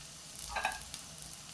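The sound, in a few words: tomatoes added to frying vegetables in a pan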